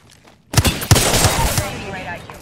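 Gunfire in a PS4 shooter game, a quick cluster of sharp close shots in rapid succession with a ringing tail after a short quiet lead-in.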